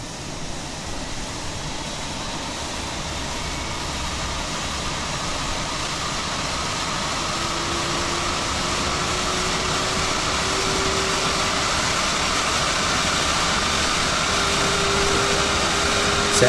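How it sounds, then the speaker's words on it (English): An A320neo jet engine spooling up during ignition start in a flight simulator, a steady broadband roar and whine that builds slowly and steadily throughout, with a faint rising tone emerging midway. "Let's put this to the right for ignition start. Click on one of your engines."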